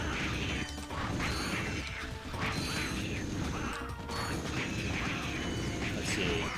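A wrench smashes enemies in the Ratchet & Clank video game: repeated metallic whacks and clanking crashes over busy mechanical game noise, with a voice faintly underneath.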